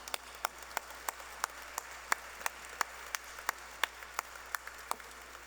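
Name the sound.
audience applause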